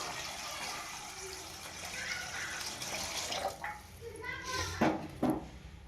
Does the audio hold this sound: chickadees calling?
no